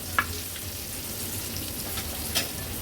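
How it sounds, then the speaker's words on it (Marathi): Large pieces of fresh sea fish fry in oil in a pan for an Agri-Koli style fish thali, giving a steady soft sizzle with a few sharper crackles and pops, with no talk. "आपण ह्या तुकड्या पलटून घेऊया तुकडी मोठी असल्यामुळे मी दोन कालत्यांचा उपयोग करते"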